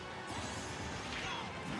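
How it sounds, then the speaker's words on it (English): A charged smash attack lands on a player in a Super Smash Bros match, a loud, sustained crashing impact with a whooshing, dense roar that fills the whole short moment amid a noisy tournament crowd. "That's two charge up smashes that Marm has been hit with in this match"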